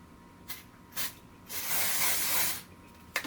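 A glitter setting spray mists from its nozzle. A couple of quick short bursts come first, then one long, forceful hiss lasting about a second, all close to the listener with no talking.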